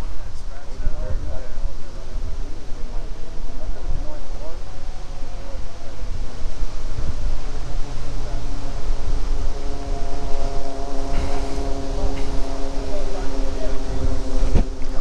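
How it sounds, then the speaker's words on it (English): Steady strong wind buffeting the microphone outdoors on a moving boat, with an engine drone underneath that rises in pitch later, loud and continuous throughout. "wind feels good."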